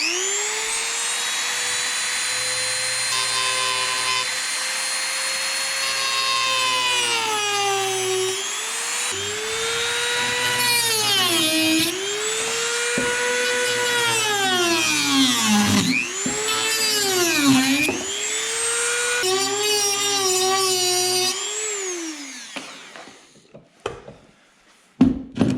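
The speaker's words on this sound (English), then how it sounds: "I'm gonna see if I can cut it with this Dremel. I've never cut into fiberglass before" A Dremel rotary tool cutting into the fiberglass hull of a cheap fishing boat: a loud, high whine that repeatedly dips and rises in pitch as the bit bites and frees, sustained for about twenty seconds before stopping.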